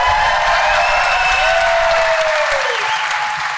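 Dense, loud applause from an audience fills a television festival reunion panel for Cheers, sustained clapping with a few cheers mixed in, fading slightly at the end.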